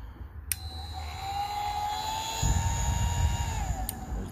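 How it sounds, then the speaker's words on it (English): A BBQ Dragon fire supercharger fan, battery powered on AA cells, whirs with a steady high-pitched motor whine that holds for several seconds, with a click at start and stop and a low rumble of handling underneath. "There's the fan."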